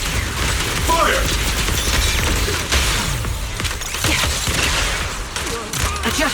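Gunfire and clanking weapon mechanisms in the video game Zenless Zone Zero, a loud, dense stream of rapid shots and metallic combat effects running throughout.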